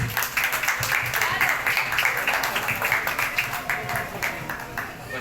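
An audience at a community assembly gives a round of applause for speaker Francisco Soni, with many hands clapping briskly and steadily, close and fairly loud, tapering slightly toward the end.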